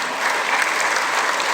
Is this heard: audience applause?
yes